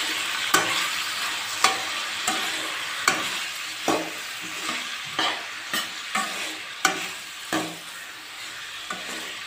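A cup of onion with garlic fries until golden in a pan, with a soft steady sizzle under about a dozen sharp, evenly spaced stirring scrapes and clicks, close up and with no talking.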